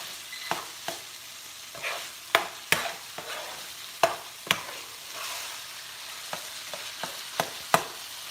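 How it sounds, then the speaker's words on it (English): Jalapenos and tomatoes cooking together in a pan give a steady, soft sizzle, with scattered sharp taps and scrapes from a spoon stirring and chopping against the pan. No voices. "Cook the jalapenos and tomatoes together."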